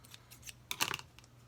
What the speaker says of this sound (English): You will have to come and cut off those little tails, because they will hang over.